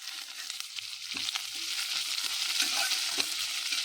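Onions and green chillies fry in a hot pan with coconut, giving a steady close sizzle broken by brief scraping stirs.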